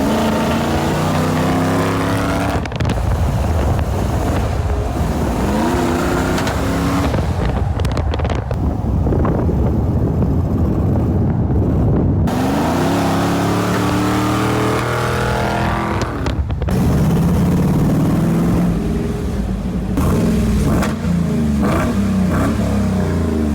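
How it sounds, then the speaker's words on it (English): A retired right-hand-drive US mail post office Jeep drives off, its engine revving and pulling away loudly amid heavy wind buffeting, with no talk. "it's an old retired post office Jeep"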